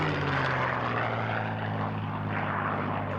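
A P-51 Mustang fighter flies past at the Duxford airshow, its propeller engine giving a steady, loud droning roar that holds evenly throughout with no voices.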